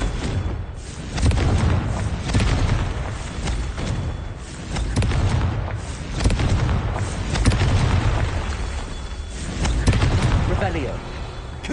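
Confringo blasting spells explode repeatedly in the wizarding game Hogwarts Legacy, with booming bursts and thuds landing amid dense combat noise while a voice talks over the action.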